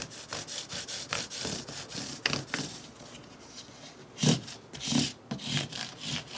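Fine grit abrasive paper rubbed over guitar frets, a close, dry scratchy rasp in quick back-and-forth strokes, with a few louder scuffs near the end.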